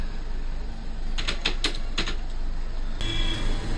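Keyboard typing while entering a search for Udyam registration on Google: a short burst of about five sharp clicks in the middle, followed by a single louder click near the end, with no talking.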